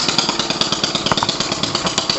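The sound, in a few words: redneck lawn mower engine starting up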